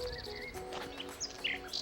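Small birds chirp and tweet at Kapanca harbour in Mudanya. Their short, faint calls come and go at a distance over a quiet background.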